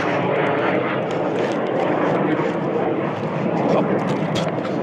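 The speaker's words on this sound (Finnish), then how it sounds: "niin kuin kuulette ehkä, niin täällä menee lentokoneita" Airplanes passing overhead near mountain bike trails on Ounasvaara in Rovaniemi, a loud continuous engine roar filling the background for several seconds, with faint rustles and knocks on top.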